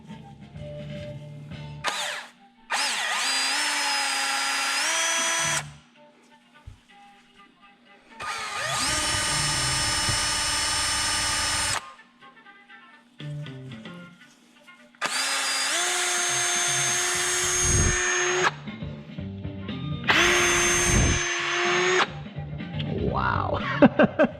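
Power drill spinning a Scotch-Brite pad against a Mazdaspeed 3 engine valve, running in three long whining bursts with rising and falling pitch, separated by short pauses with faint handling noises.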